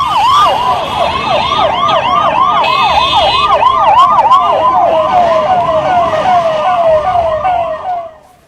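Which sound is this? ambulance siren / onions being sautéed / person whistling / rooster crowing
ambulance siren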